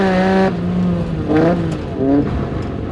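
Six-cylinder engine exhausting through a 6x1 collector, a smooth, loud revving drone that rises and falls in three throttle blips, close and steady with no talking.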